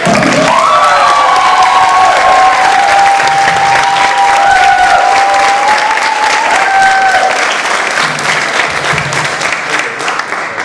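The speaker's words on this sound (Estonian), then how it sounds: "võime akadeemiale veel aplausi teha" Loud, sustained applause from a large crowd at a graduation ceremony fills the whole stretch, with a few whistles and cheers rising above the clapping.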